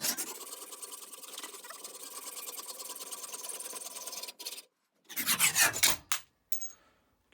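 Metal being cut for a bench grinder adaptor plate: a steady, close grinding and rasping drone that holds for several seconds, breaks off, then returns in a few short harsh bursts before stopping.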